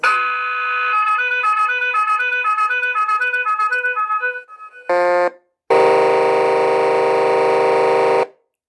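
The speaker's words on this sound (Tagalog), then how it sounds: "Horn sound." Loud electronic horn effects from the sound system of a 1:16 scale RC truck cycle through several tones: a steady blast, a pulsing warble, a short honk, then a long sustained air-horn blare, alone and close.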